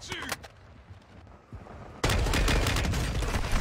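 Gunshots in a first-person shooter video game: a few faint distant shots at first, then a sudden loud burst of rapid gunfire that keeps going to the end.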